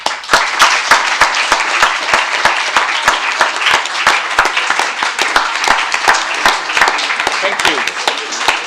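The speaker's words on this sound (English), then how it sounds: "Give them a warm applause." An audience at a conference gives sustained applause. The sharp, rapid hand claps carry on steadily throughout at a loud, close level.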